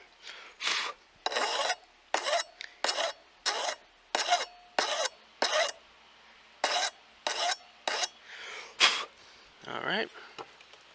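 A file scrapes back and forth in about fourteen short, rhythmic strokes to clean up a wire cut on a Sheffield straight razor under restoration, crisp rasping bursts close by with brief pauses between them.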